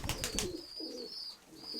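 Pigeons in a loft coo softly several times in a row, low murmuring calls close by, with a brief rustle of movement at the start.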